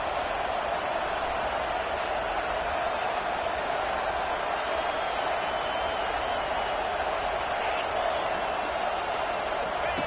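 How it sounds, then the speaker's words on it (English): Football stadium crowd roaring steadily to urge the home defense on a big third down, a dense, sustained wall of cheering with a commentator talking over it. "The crowd elevating its energy, willing this defense to get a stop on this big 3rd down."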